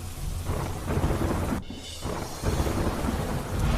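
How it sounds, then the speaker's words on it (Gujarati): Heavy monsoon rain pours on the Vadodara Express Highway in Gujarat, a dense roaring wash broken by loud thunder cracks and rumbles close by. "વડોદરા એક્સપ્રેસ હાઈવે પર ધોધમાર વરસાદ"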